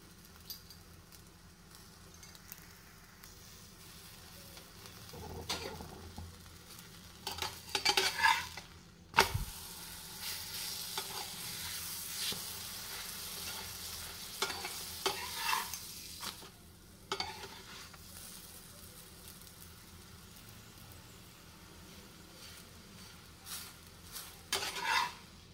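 Paneer chaat being stirred and mixed in a pan with spices, steady scraping and stirring over a low sizzle, with a few louder clatters of the utensil against the pan partway through.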